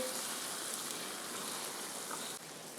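Steady broadband splashing and hiss of water poured into a pot of rice, continuous for a few seconds, fairly close, with no talking.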